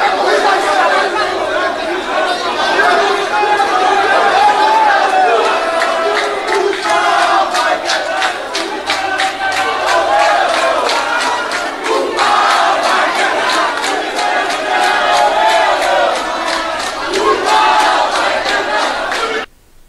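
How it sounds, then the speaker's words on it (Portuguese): Football fans at Salvador airport boo and chant in protest at their team's arrival, a dense, loud crowd roar with rhythmic pulses of shouting sustained throughout. "os torcedores receberam o time com muita vaia e com manifestação no aeroporto de Salvador"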